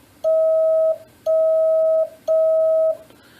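Three long, steady beeps of Morse code, evenly spaced, each a clean higher-pitched tone heard alone against faint background hiss.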